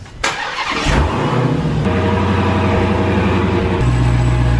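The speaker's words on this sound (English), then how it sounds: "It sounds like it's like metal grinding. It doesn't sound good" A Hellcat car engine cranks and starts, then idles roughly with a steady metal-grinding rattle running through it, close and loud.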